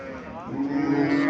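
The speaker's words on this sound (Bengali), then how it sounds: "লাল বাছুর, সাইওয়াল বাছুর না?" A red Sahiwal bull calf, only three or four days old, gives a single close, drawn-out moo that rises and grows louder, heard alone.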